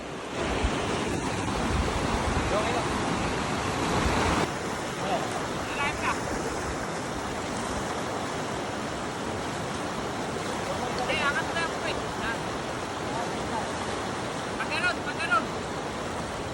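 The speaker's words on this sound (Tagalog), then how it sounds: "malakas yung rapid pero mababaw" Strong but shallow river rapids during a bike-packing trip to Nansiacan, Kayapa, Nueva Vizcaya: continuous loud rushing water with heavy wind buffeting on the microphone, steady throughout with a few faint clicks.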